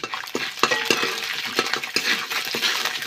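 Bhat, black soybeans, dry-roasting in a pan: a quick run of rattling scrapes and clicks as the beans are stirred, close and fairly loud over a faint crackle.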